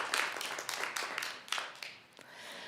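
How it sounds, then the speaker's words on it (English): Applause and a standing ovation fill a city council meeting in Flagstaff: a dense, steady patter of many hands clapping at moderate-to-faint level, swelling and easing slightly before tapering off near the end. "Tiffany, I think you're hearing a round of applause and a standing ovation"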